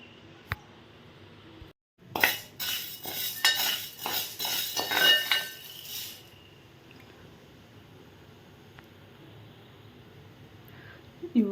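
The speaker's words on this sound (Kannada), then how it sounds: "ಸ್ವಲ್ಪ ಹುರ್ಕೋತೀನಿ ನಾ ಕೆಂಪಾಗಂಗೆ" Moong dal dry-roasting in a pan, stirred with a spoon: a few seconds of close, rapid scraping and clinking strokes, then a quiet stretch with only faint room noise.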